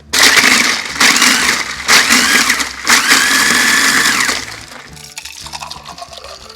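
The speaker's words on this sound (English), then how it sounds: "just flash blend for a couple of seconds" A blender whirs loudly in several short pulses, grinding and rattling through ice, then winds down as the motor slows.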